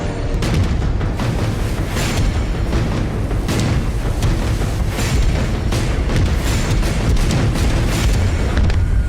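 Booming artillery fire and explosions from a submarine battle, with the K3 submarine surfacing to duel German chasers; dense, continuous rumbling blasts and bursts fill the whole stretch at loud, close range with no voices.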